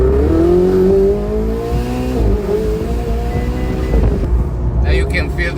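A Ferrari engine drones steadily while driving, its low harmonic tones shifting in pitch as the car changes speed, with light wind noise and a brief higher rustle near the end.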